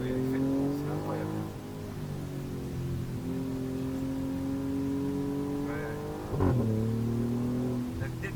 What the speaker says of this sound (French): La détonation à l'échappement c'est exceptionnel.